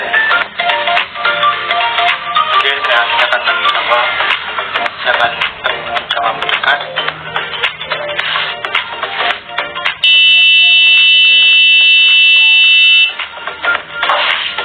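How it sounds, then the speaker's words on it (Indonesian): Dense noisy sound gives way to a steady, piercing electronic buzzer tone from a PIR motion sensor alarm that holds for about three seconds, loud and close. "sensor itu akan mengeluarkan suara dan suara itu berasal dari buzzer"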